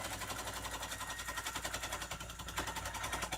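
Close and loud, a sewing machine runs a straight stitch through a tote bag seam with a fast, even needle chatter that carries on without a break and stops at the end.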